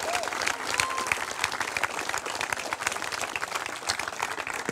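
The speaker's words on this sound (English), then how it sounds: "Let's give a round of applause for that." Audience applause at a robotics championship celebration, a dense steady wash of many hands clapping at close range, sustained evenly throughout with a faint voice briefly audible beneath it.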